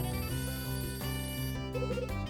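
A cell phone rings in the video game Last Window, a steady electronic ringtone with layered melodic tones playing continuously and alone for a couple of seconds.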